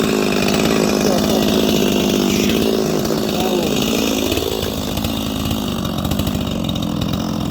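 Holzfforma G255 chainsaw with a China carburetor, running loud and steady while cutting through a sizeable maple log, the engine note dipping slightly under load midway.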